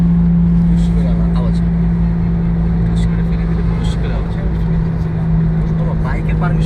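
A motorbike cruises over the Padma Bridge in Bangladesh with a steady low engine drone and wind roar throughout, loud and close, while people talk over it.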